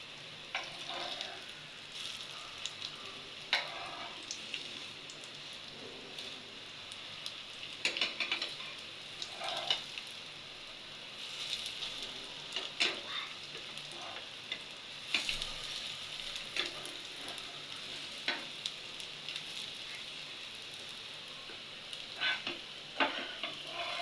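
Homemade veg kebabs fry on their second side in a pan with a steady, soft sizzle, broken by occasional clicks and scrapes of utensils.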